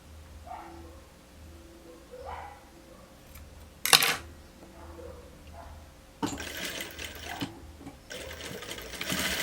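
A home sewing machine stitches fabric for a blouse in short bursts of loud, close, rapid needle clatter, with a sharp click and quieter pauses in between.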